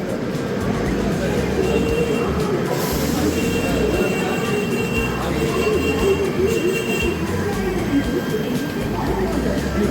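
Train at Jhansi railway station, heard as a loud, steady rumble of rolling rail cars with squealing wheels and metallic rattling, continuous and close throughout, with faint voices in the background.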